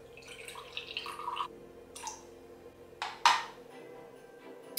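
Water poured into a mixing bowl while making homemade Christmas shortbread, a few short trickling and splashing bursts, fairly quiet and close, with gaps between pours and no talking.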